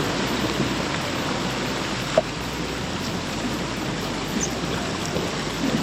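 A cold mountain stream flows strongly outdoors, a steady loud rushing of water with one brief knock midway.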